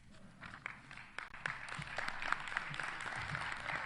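Audience at an education awards ceremony applauding award recipients, a moderate, somewhat distant round of clapping that builds after a quiet start and holds steady, with faint crowd murmur underneath.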